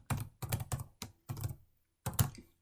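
Keys tapped on a computer keyboard while entering data, in five short, close bursts of clacking separated by brief pauses, with no talking.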